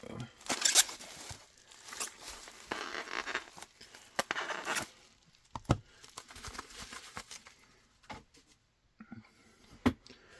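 Plastic sleeve packaging around graded PSA trading cards is peeled and cut open, making close crinkling, tearing and zipper-like ripping that is dense at first and then breaks into sparse clicks and crackles.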